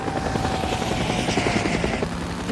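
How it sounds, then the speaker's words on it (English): Helicopter in the video game Days Gone, a loud steady rotor chop with a droning engine filling the whole stretch, close and continuous. "Gotta go after this helicopter."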